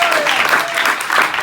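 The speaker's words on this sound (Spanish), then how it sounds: "Denle ese aplauso fuerte si es para el Señor" A congregation at a church service claps steadily and loudly, a dense, continuous wash of applause filling the room without pause.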